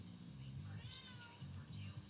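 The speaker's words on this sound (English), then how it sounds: "You can hear my kitty screaming." A pet cat cries in a long, drawn-out yowl, faint and somewhat distant, beneath a steady background of game sound and low hum.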